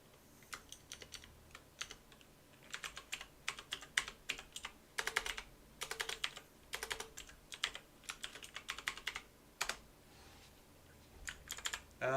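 Someone types a password on a computer keyboard, with close clattering keystrokes in short irregular bursts separated by pauses, no voices.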